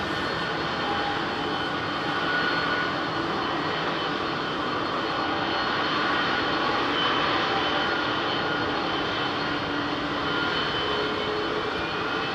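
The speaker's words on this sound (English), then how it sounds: "Oh, listen to those lovely old engines." Old aircraft engines at Heathrow airport drone steadily and loudly throughout, a continuous close propeller-and-engine roar with no speech over it.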